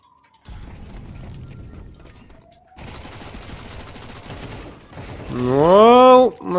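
Pistol fire from USP handguns during a Counter-Strike match, heard as a dense, sustained burst of gunfire-like noise that continues for several seconds before a louder voiced sound takes over at the end.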